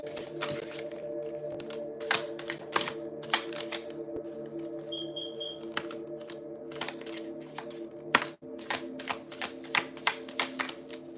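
A deck of tarot cards being shuffled by hand, giving repeated crisp riffling snaps and soft slaps at an irregular rhythm, close and fairly quiet over a faint steady hum.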